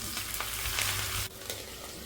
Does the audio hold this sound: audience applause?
no